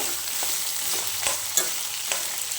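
Tamarind dry-roasting in a pan while ginger chutney is being made, giving a steady close sizzle with occasional scraping stirs and small clinks, no voices.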